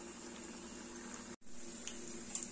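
Rice-flour medu vadas fry in hot oil, making a faint, steady bubbling hiss that drops out for a moment and then carries on, with a few small pops near the end.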